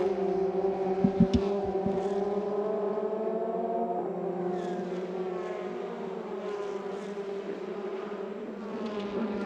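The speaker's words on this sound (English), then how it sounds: "these fabulous little single-seaters, powered of course by the 2-litre Renault engine" Formula Renault 2.0 single-seater race cars with 2-litre Renault engines at the Spa circuit: a steady, buzzing engine drone with pitch rising and falling as the cars accelerate, heard at a moderate distance and without talk.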